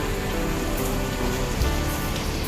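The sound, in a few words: light rain falling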